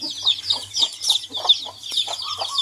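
Mother hens with newly hatched chicks cluck close by in quick, repeated short calls that form a steady, chattering rhythm.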